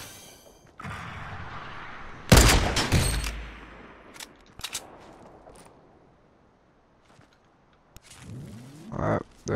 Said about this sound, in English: there goes a rocket launcher